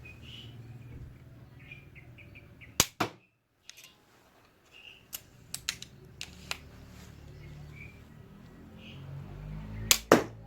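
Handmade wooden slingshot pistol being fired, a few sharp snapping cracks spaced seconds apart with quick double clicks, against quiet outdoor background with faint bird chirps.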